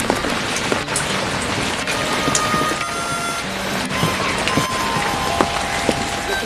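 Steady rain falls throughout, a dense continuous patter with scattered sharper drops and a few brief knocks, fairly loud and close with no talk over it.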